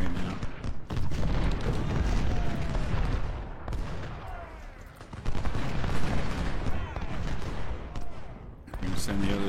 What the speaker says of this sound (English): So we've got 3 units firing on these guys, but Reed is taking a little bit of a beatin